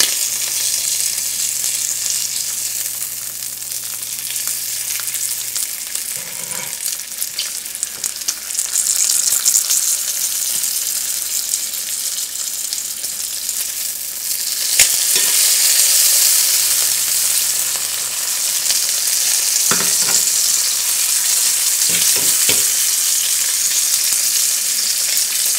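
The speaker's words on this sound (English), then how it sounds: "trying to flip this bacon over." Bacon frying in a pan, a steady loud sizzle and crackle running throughout with a few brief clinks from turning the strips, no talking.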